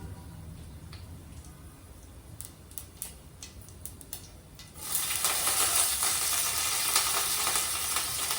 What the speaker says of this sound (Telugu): దినుసులు ఆవాలు చిట్పట్లు ఆడుతున్నాయి కదా